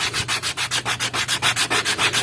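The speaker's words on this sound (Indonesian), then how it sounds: "Cara manual itu dengan cara menggosok dengan amplas" Sandpaper rubbed by hand over a small 2.7 cm Jaws Mini fishing lure, about a dozen quick, even back-and-forth rasping strokes, close and fairly loud, with no talking.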